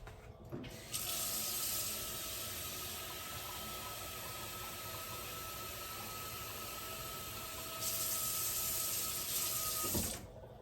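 Water runs steadily from a tap into a pot for around ten seconds in a continuous hiss, getting a little louder near the end before it cuts off.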